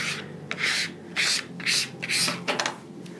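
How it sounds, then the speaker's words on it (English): A squeegee pressed over transfer tape on a chalkboard stencil, making about five close, rhythmic scraping swipes evenly spaced, each a short rasping rub. "And then squeegee that down."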